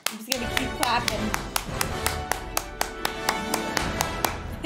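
Steady hand claps repeat at an even pace, about four per second, close and sharp over a busy background of movie sound and music, with a brief excited voice at the start.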